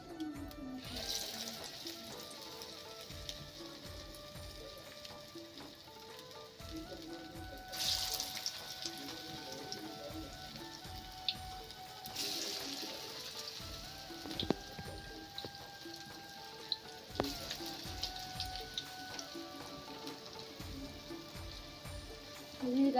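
Bottle gourd kofta frying in oil in a wok in a village kitchen, a steady crackling sizzle with bursts of spattering, heard close and without talk.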